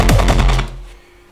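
A layered hardpsy-style kick drum with a reverb tail: a few rapid, punchy low thumps in quick succession, loud and close, then a decaying reverberant wash fading out over about a second, with no voices.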